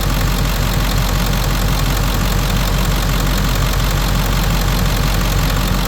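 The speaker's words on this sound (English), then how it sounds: "I want you to listen to it so you can hear this beautiful engine." The engine of a 2003 Ford F550XL utility bed truck runs at a steady idle, a constant loud mechanical rumble with no breaks or talking over it.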